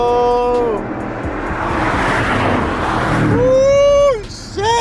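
Street-racing cars, a Supra against a 5.0, roar past in a swelling rush of engine and tire noise that peaks and fades, with rising and falling engine whines as they accelerate, while people talk and shout nearby.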